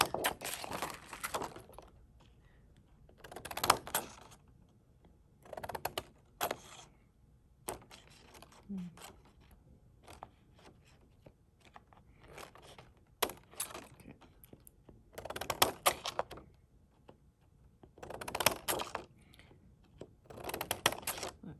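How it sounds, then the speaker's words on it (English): Scissors cutting material for a found-object sculpture, several short crisp snips in uneven bursts separated by quiet pauses, close and fairly faint. "going to cut different widths just as far as my scissors will go"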